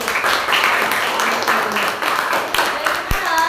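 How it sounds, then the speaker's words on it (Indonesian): A classroom of students claps together, a dense, continuous burst of applause that carries on evenly for a few seconds. "Yuk tepuk tangan."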